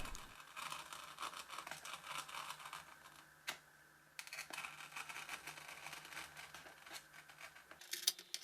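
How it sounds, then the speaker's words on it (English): Cutting out a NACA duct shape for a Nord 2501 Noratlas RC model plane produces quiet, continuous scratchy rasping and scraping with occasional sharper clicks, heard close up. "Then cut out the shape of the duct."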